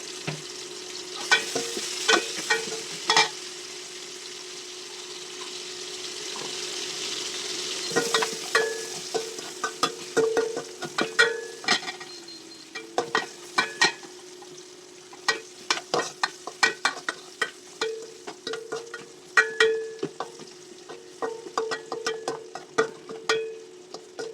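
Cauliflower and dried chili fry in a pan, a steady sizzle running throughout while a utensil scrapes and knocks against the pan in frequent, irregular bursts, close and moderately loud with no talking.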